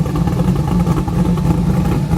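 A built EFI V-8 in a 1972 Ford Bronco runs loud and close, its low rumble rising and falling slightly with the throttle.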